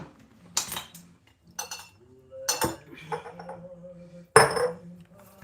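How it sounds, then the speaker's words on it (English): A spoon scrapes and clinks against a glass jar while homemade Biscoff spread is spooned in, giving several separate sharp metallic taps and scrapes with quiet gaps between them and a faint voice underneath. "And you just now spoon it into a jar."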